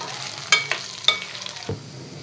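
Dried red chillies fry in oil for raw mango rice, a soft, low sizzle broken by a few sharp stirring knocks and scrapes against the pan.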